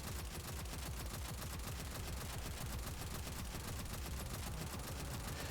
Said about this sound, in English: I have plenty of machine gun ammo left, and I can just take it out from a safe distance.